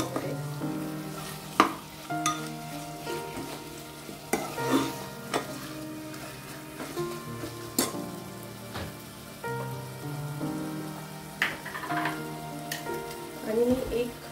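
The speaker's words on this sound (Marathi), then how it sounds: "हे छान परतून घ्यायचं आहे तेलामध्ये" Whole spices and salt sauté in hot oil for a chicken pulao, a close crackling sizzle broken by scattered sharp pops and spatula clinks, with no talking.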